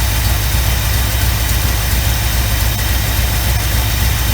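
A 1975 Chevy Camaro engine idles steadily with one cylinder grounded out during a misfire test, a loud, continuous low rumble with a slightly uneven, slowed beat and no voices.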